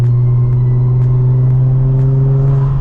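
Nissan 350Z HR engine running close up, a loud steady low droning hum that rises gently in pitch as the revs build, with no talk.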